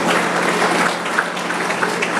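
An audience claps at a FANS Martyr's Mahotsav ceremony honouring guests, a dense, steady wash of applause that stays even throughout.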